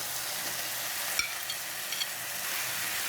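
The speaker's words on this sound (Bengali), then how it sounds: "আমার সবজিগুলো ভাজা হয়ে গেল একটু কাঁচা কাঁচা থাকবে" Chopped carrot and capsicum fry in a pan for vegetable chowmein, a continuous close sizzle broken by a few short utensil scrapes and clicks as the vegetables are stirred.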